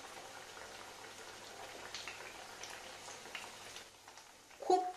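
Alu vadi, rolled colocasia-leaf slices, fry in moderately hot oil, giving a faint, steady bubbling sizzle with a sharper splash near the end.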